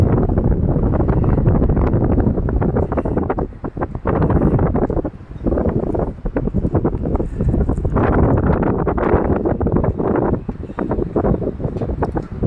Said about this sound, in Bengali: খুব হাওয়া দিচ্ছে।